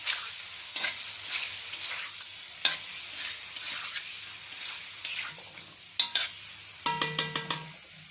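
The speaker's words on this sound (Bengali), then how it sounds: "বন্ধুরা পনিরটা আমার হয়ে গেছে ভাজা ভাজা।" Paneer frying in a pan, a continuous sizzle of hot oil with repeated scraping stirs of a spatula, close and clear, ending in a quick series of metallic clanks against the pan.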